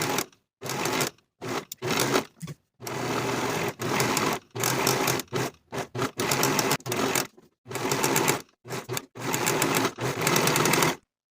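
A sewing machine finishes the bottom raw edge of a dress, running in loud, close bursts of rapid mechanical whirring stitching broken by short silent pauses, with no talking.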